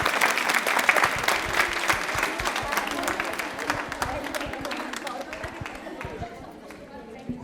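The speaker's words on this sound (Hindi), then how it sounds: "तालियां एक बार इनके लिए जोरदार बजा दें।" A studio audience on a Rajasthani television quiz show claps loudly for a correct answer, dense rapid applause that gradually thins and fades over several seconds, with some crowd chatter underneath.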